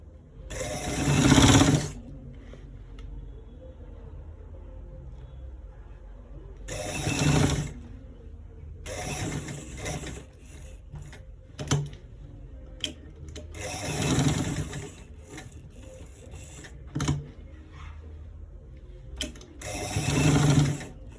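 A sewing machine stitches the inner pocket of a V-neck garment in short, separated bursts, each a loud close whir of about a second with quiet pauses between, with a few clicks in the gaps.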